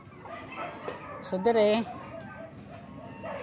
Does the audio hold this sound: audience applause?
no